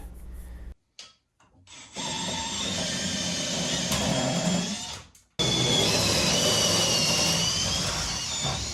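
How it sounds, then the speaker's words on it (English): A steady grinding whir of a power drill boring into wood through a ceiling for downlights, running for several seconds, briefly stopping, then resuming loudly and continuously. "I drill until I run out of bit"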